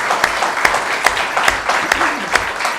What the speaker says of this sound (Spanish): quiero pedir un aplauso para él